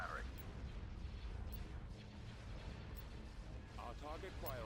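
Starship cannon batteries firing in a Star Wars space strategy game, a dense continuous barrage of booming, crackling blasts with steady loud rumble throughout and a few brief tonal laser-like chirps near the end.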